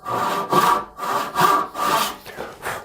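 Hand saw cutting a kerf across wood, five or six rhythmic rasping strokes back and forth, close and clear, each stroke rising and falling in loudness with short gaps between.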